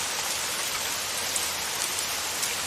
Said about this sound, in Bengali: এমন সময় বৃষ্টি